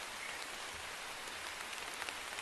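Rain falls in a steady, even patter on surfaces, a soft continuous hiss with scattered drops and no talking.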